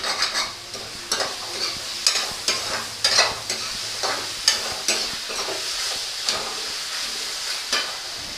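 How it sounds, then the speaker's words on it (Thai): Spicy holy basil stir-fry tossed in a hot pan, with a bright continuous sizzle and a series of sharp scraping stirs every second or so, close and loud. "ผัดไปค่ะทีนี้"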